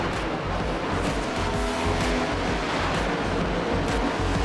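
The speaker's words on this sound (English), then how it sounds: "you hear it. It's cars on track." NASCAR Cup Series stock cars racing at Talladega in the iRacing sim game, a dense, steady roar of engines and rushing noise that holds loud and unbroken throughout.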